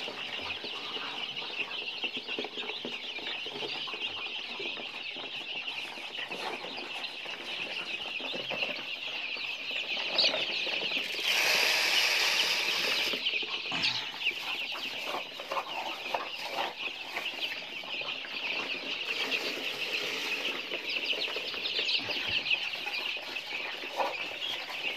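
Lai fighting chickens kept free-range cluck and flap their wings in a dense, continuous barnyard clamour that runs without pause, swelling slightly in the middle.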